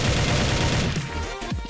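Dense, loud bursts of automatic gunfire roar continuously in a Blood Strike shooter match, a rapid fusillade filling the whole moment with a harsh, noisy crackle.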